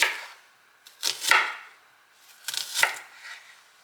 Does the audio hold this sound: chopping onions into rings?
yes